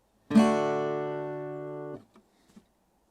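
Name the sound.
acoustic guitar chord strummed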